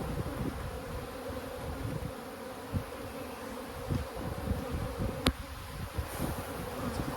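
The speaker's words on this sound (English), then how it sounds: "there's a lot more bees back here." A dense, steady buzz of many honey bees swarming around an abandoned hive during an inspection, heard close and continuous, with faint handling knocks but no voices.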